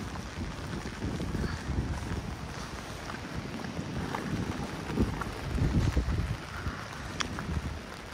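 Continuous wind rushes and rumbles across the microphone at moderate loudness in rain at the Krasnaya Polyana mountain resort near Sochi in spring, with gusts swelling around the middle and no talking.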